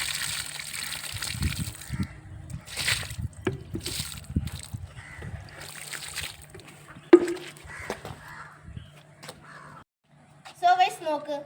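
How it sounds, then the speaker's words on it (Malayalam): Water splashes and pours over a bicycle disc brake being washed clean of grease, arriving in uneven bursts and spatters, with a voice and a low hum underneath at times. "നമുക്ക് കുറച്ച് വെള്ളം ഇങ്ങനെ ഒഴിച്ചു കൊടുക്കാം"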